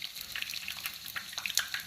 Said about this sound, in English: I'm gonna fry the fish until it brown on both sides guys.